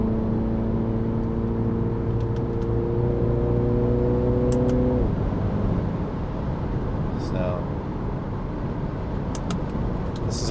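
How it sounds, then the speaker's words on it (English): A car being driven on the road, its steady engine and road noise running throughout with harmonic engine tones that drop away about halfway, while a person talks over it. "this is a fun car. I like driving it."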